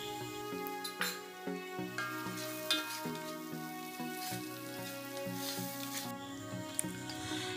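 Beef cutlet filling sautés in a pan with a soft sizzle and repeated stirring scrapes, heard faintly beneath steady background music.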